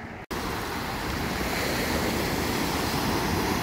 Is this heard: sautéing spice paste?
no